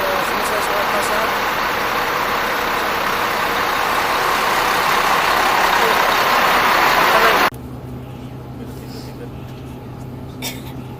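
A bus drives along the desert road between Mecca and Medina at an easy pace, with a steady loud engine and road roar heard from inside the cabin that drops abruptly to a quieter low hum near the end.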